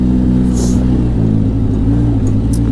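A 2012 Polaris RZR 800 S side-by-side engine drones steadily up close, revving with shifting pitch through a continuous mid-range roar, with no voices over it.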